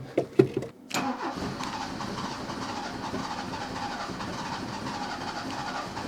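A carburetted Opel Ascona engine is cranked with a few rough clicks and whirs, then catches and settles into a steady, low idle rumble that runs on evenly at moderate distance with no talking.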